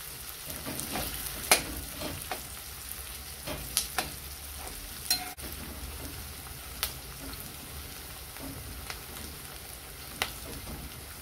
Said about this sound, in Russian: Лук нужно пожарить до золотистого цвета.